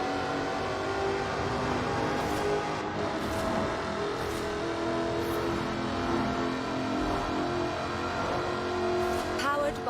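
Supercharged 5-litre V8 sports car engine in Forza Horizon 4, a steady loud drone holding throughout with a few brief revs and shifts near the end.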